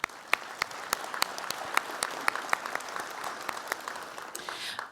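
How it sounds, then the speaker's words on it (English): An audience at a community coffee gathering applauds, with sharp individual claps standing out over a steady background of clapping for about five seconds before it starts to thin out. "Let's give yourselves a round of applause."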